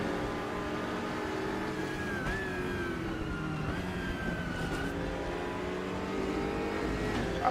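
A race car engine in the racing game RaceRoom drones steadily at high revs, with pitch shifts as gears change and other cars close by; loud, continuous and without talk.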